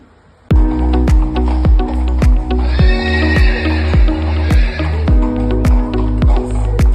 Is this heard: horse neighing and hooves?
yes